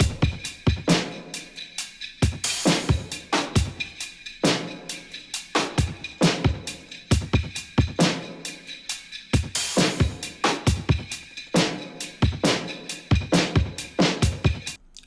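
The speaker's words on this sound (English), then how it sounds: "So all of our drums sound like this." Indie rock drum beat with a pitched-up textured effect on the highs, playing a steady loud pattern of punchy hits and crisp cymbals for the whole stretch, with no voices.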